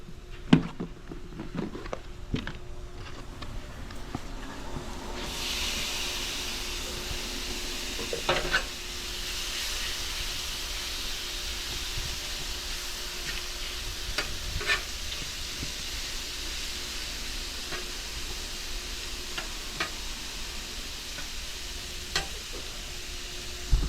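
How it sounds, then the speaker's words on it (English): Garlic shrimp sizzling and frying on a hot griddle, a steady continuous hiss with occasional scraping and stirring clicks, no voices. "Sizzling garlic shrimp."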